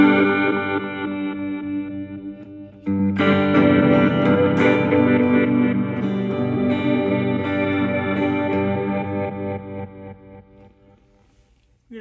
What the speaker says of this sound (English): So here we go with the reverb sound,